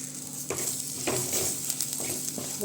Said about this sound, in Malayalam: കുറച്ച് വെളിച്ചെണ്ണ ഒന്ന് ചേർത്ത് കൊടുക്കാം തക്കാളിയും കൂടെ വഴറ്റിയെടുക്കാൻ വേണ്ടി